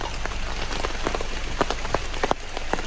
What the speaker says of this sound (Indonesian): hujannya nggak berhenti, malah makin lebat aja